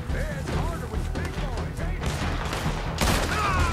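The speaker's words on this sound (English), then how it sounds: "I'm just shooting random things now." Gunfire from the video game Red Dead Redemption 2, a dense run of shots and bursts with crashing impacts, sounding under game effects and a person talking through much of the stretch.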